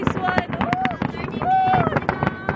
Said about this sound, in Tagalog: Ang kabogable fireworks!